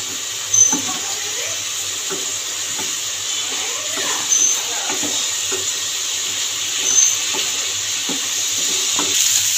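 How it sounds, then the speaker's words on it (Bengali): Vegetables frying with ground green chili and turmeric masala for a Bengali mourala fish chorchori, a steady hiss of sizzling oil with soft periodic scrapes of stirring, no voices. "এবার মশলাটা দিয়ে ভালো করে কষিয়ে নেবো সবজিটাকে।"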